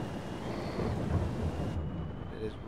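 Rain pours steadily with low rumbling thunder in the Farming Simulator 22 game, a continuous broadband wash that thins out partway through.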